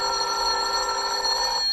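A telephone bell rings steadily and loudly in a radio drama, a bright continuous metallic trill that holds for the whole moment before cutting off at the end.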